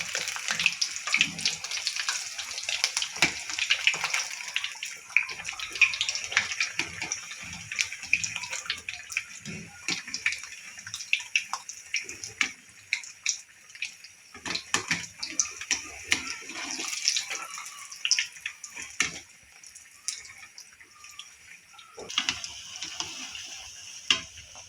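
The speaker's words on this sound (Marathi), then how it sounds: "आता आपण वडे परतून घेऊयात" Vadas deep-frying in oil, a bright crackling, bubbling sizzle that runs continuously with scattered pops and occasional ladle taps and scrapes, close and moderately loud, no voices.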